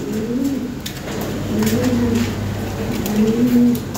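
Lahori pigeons coo in a steady, low rolling rhythm, several throaty phrases following one another close by, with some faint background noise and no talking.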